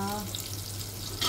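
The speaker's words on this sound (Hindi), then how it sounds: "सिंपल से मैंने इसमें डाले एक चम्मच देसी घी" A spoonful of desi ghee sizzles in a pan, giving a brief, steady crackling hiss at close range with no voice over it.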